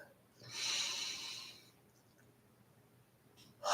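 A single deep breath drawn in, airy and moderately close, lasting about a second and then fading, with a short sharp breath or sound at the very end.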